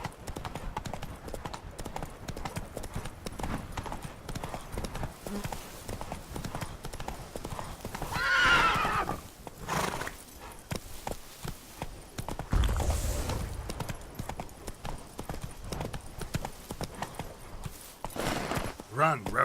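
Roach, the horse in The Witcher 3: Blood and Wine, gallops with steady rhythmic hoofbeats on the ground, joined by game music, spoken lines and a short whinny-like burst midway.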